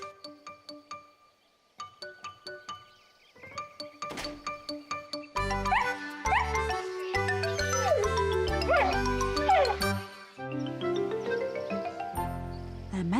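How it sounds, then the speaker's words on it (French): A small cartoon dog in a French children's Miffy episode yips and whimpers in short bursts, first sparse and then busier over a bright chiming musical score, with no talk. "Snuffy est un adorable petit chien"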